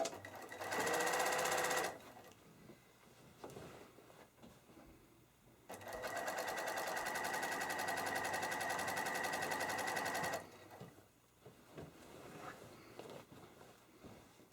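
A sewing machine stitching a quilt border runs in two bursts, a short run at the start and a longer steady whir in the middle, with quiet handling sounds between.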